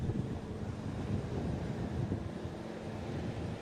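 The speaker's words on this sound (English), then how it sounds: "Wind is blowing all over the show" Gusting wind buffets the microphone at an outdoor under-17 water ski world championship, a steady low rumbling roar that swells and eases without a break across the whole stretch.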